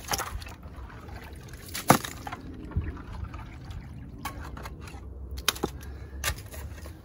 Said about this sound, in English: This dog is stepping like in the water.